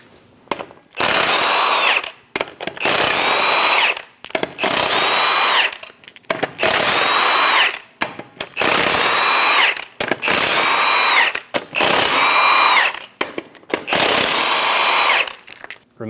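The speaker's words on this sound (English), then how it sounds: "Using a 22mm socket, remove the 8 lug nuts." Impact wrench spinning off the eight lug nuts from a Chevrolet Express 2500 van wheel with a 22mm socket, loud close bursts of about one to two seconds each, repeating steadily with short gaps between.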